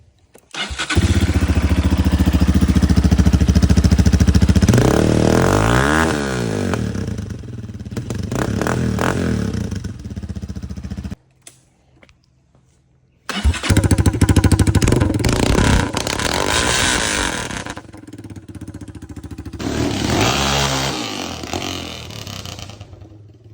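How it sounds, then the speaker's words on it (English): A Honda CRF230F dirt bike with its stock exhaust starts and runs, loud and close, with engine clatter and rising and falling revs, a brief cutout, then another burst of revving. "I want to do a quick before comparison of the exhaust."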